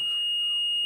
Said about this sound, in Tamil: இது மாதிரி ஒரு பசர் சவுண்ட் வரும்.